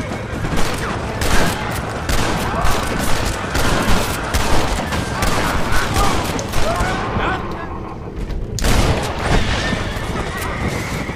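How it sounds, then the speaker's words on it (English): Dense, continuous gunfire from a shootout in the video game Red Dead Redemption, rapid cracking shots overlapping throughout, loud and close, with brief voices mixed in. "No more shooting me, please."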